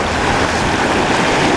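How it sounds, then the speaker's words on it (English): Waves churning around an underwater ROV on a Hawaiian reef at night, a dense continuous rush of water noise, loud and steady throughout with no voices. "You can hear the waves thrashing around"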